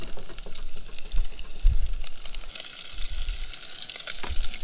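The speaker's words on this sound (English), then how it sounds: "let that fish cook and simmer in there" Brook trout fries in bacon grease in a pan, a steady crackling sizzle with bright spattering pops that swell partway through, close and continuous with no talking.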